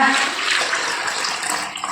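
Water poured into a bowl while making tandoori chicken, a continuous splashing, gushing stream that runs for about two seconds with slight swells and no talking.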